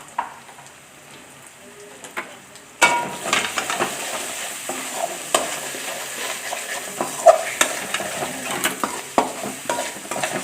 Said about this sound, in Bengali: মশলাটা ভালো করে কষে নিতে হবে।